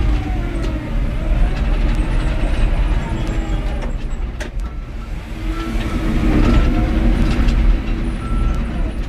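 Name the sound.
John Deere 750K LGP dozer running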